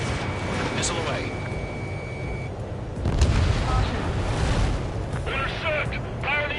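Missile launch and blast in the jet combat game Ace Combat 7: Skies Unknown, a whooshing roar that swells into a heavy rumbling explosion midway, with radio-style voices talking over the noise.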